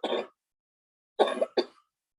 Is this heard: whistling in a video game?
no